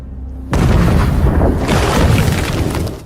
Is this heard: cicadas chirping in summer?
no